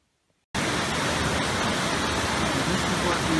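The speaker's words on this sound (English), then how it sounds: "This is what the waterfalls look like when we've had 2 very heavy days of 10mm rain." After a short silence, a waterfall swollen by heavy rain bursts in as a loud, dense, continuous roar of rushing water that holds steady to the end.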